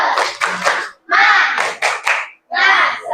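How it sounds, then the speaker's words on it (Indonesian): An audience, apparently children in a classroom, claps a rhythmic spirit clap in loud, close bursts separated by brief pauses, with shouted chanting mixed in. "Tepuk semangat."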